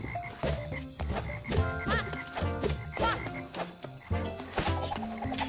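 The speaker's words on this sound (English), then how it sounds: "Check out the singing frogs. Sweet harmonies." Frogs croak in a night swamp in The Plucky Squire, a dense chorus of repeated croaks pulsing over layered background music, steady and fairly loud for the whole stretch.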